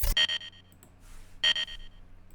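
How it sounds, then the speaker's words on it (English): Short electronic blips in a Game & Watch style sound effect from a riddim dubstep tearout drop, two bright beeping bursts separated by a quiet gap, sounding alone and close. "I have this little Game & Watch sound."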